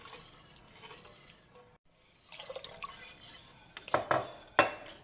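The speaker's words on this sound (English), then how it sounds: "Keep adding the milk a little bit at a time" Milk being stirred into a béchamel white sauce in a pan for lasagna, soft liquid swirling and scraping with a few sharp clinks of a utensil against the pan near the end.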